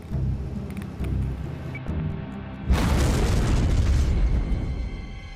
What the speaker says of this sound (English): Seconds after an explosion in the engine